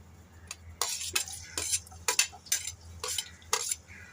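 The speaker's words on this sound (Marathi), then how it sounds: "इथे मी कढईत तेल गरम करण्यासाठी ठेवलं आहे। तेल गरम झालं की आपण त्यात कांदा" A spoon stirs onion in hot oil in a metal kadhai for egg curry, giving a quick series of scraping clinks in an irregular rhythm over a faint sizzle, with no voices.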